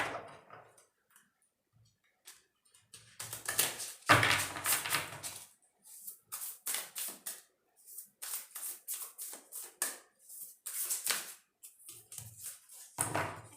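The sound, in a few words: shuffling tarot cards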